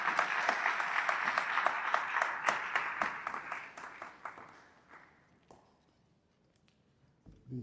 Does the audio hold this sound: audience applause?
yes